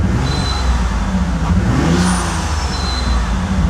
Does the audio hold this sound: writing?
no